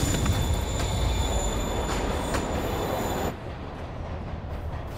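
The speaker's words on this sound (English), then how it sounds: "Train moving." A train moving away in Marvel's Spider-Man Remastered on PS5: a loud continuous rumble of rolling wheels with squealing metal tones, dropping sharply in level and thinning as it recedes.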